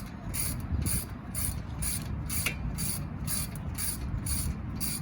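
Brake parts being tightened on a 2004 Nissan Murano during a pad replacement, heard as a steady rapid ratcheting of a wrench, close and continuous over low background noise, with no talking.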